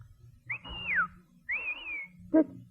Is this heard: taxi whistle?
yes